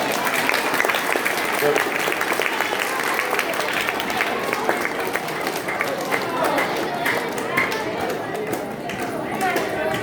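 Children applauding loudly at a temple event, a dense, continuous wash of clapping that holds steady throughout, with some voices mixed in.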